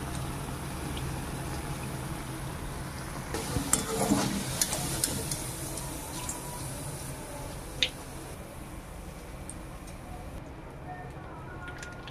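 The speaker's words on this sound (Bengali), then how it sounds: "এভাবে আমি সবগুলোকে ভেজে নেব।" Palm fruit pitha fry in hot oil, giving a continuous close sizzling hiss with scattered bubbling crackles and a few soft clinks, at moderate level.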